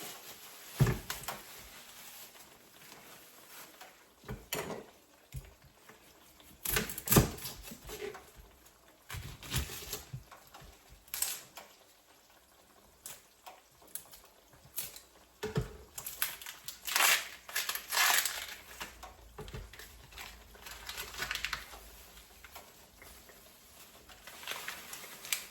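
Knife chops onion on a cutting board in a home kitchen, giving irregular crunchy thuds and crisp cuts that come in clusters, close and moderately loud, with quieter rustling between strokes.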